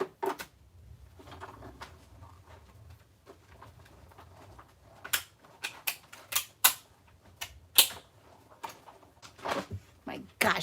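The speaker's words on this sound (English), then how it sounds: "did you hear all that clicking?" Crafting cutting machine clicking, a series of sharp, irregular clicks and taps that grow louder and denser toward the end, heard close with faint background noise.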